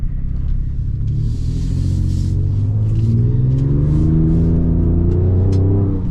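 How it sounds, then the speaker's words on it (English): A pickup truck with its exhaust set to Baja mode accelerates on wet roads in two-wheel drive, a loud, close engine and exhaust roar rising steadily in pitch across several seconds with no talking. "We'll pop the exhaust in Baja mode for a little bit of fun."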